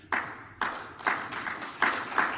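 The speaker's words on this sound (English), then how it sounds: "Interrupted by clapping." Audience members clap during a Ron DeSantis speech on critical race theory, with several distinct claps spaced about half a second apart, fairly near and moderate in level, with no speech over them.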